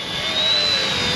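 An Eachine E110 tiny toy RC helicopter flies close by, giving a steady, loud, high-pitched motor and rotor whine that holds an even pitch throughout.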